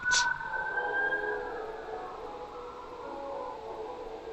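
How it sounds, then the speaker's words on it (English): Wailing sirens rise and fall steadily at moderate distance, long sustained tones layered together with a brief noisy burst at the start. "Listen to those sirens."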